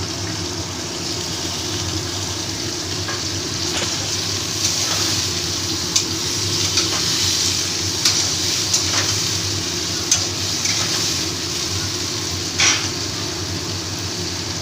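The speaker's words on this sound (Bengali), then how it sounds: "এটাকে একটু ভেজে নিলাম এবার আস্তে আস্তে আমি সব সবজিগুলো একসাথে দিয়ে দেবো" Vegetables fry in a pan for a Bengali shukto curry with small fish: a steady close sizzle with occasional clinks and scrapes of stirring.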